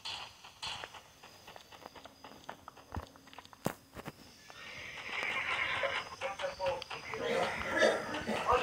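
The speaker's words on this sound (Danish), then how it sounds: "Jeg skal spawne min hest." A horse in a western video game whinnies, with clip-clop hoofbeats and footstep sounds; the neigh swells up in the second half over faint game ambience.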